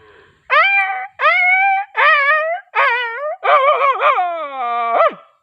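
A man imitates a dog that has been hit, voicing a run of five close, loud whimpering howls with short gaps, the last one long and trailing off into a falling whine.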